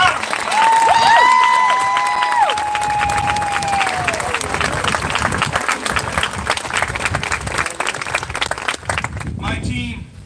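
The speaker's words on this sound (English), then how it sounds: "how about I get a nice round of applause for Ms. Megan D'Alessandro" A large crowd at a graduation ceremony applauds loudly and continuously, with a few whistles early on, and the clapping fades only at the very end.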